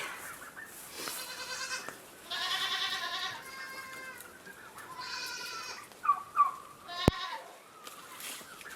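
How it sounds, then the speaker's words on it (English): Several goats bleat loudly and insistently, overlapping calls repeating every second or so, with a sharp click near the end. "the goats are just going nuts because it is time to milk"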